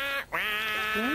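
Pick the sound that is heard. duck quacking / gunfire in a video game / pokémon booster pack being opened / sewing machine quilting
duck quacking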